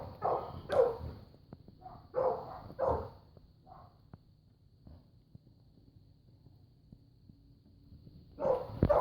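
A dog barks in a backyard in short separated bursts, a few early on, then a pause before another near the end, against a quiet outdoor background.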